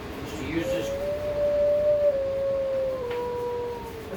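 A dog lets out a long, sustained howl in response to sirens, one drawn-out wavering note rising then slowly falling, fairly close against a quiet background.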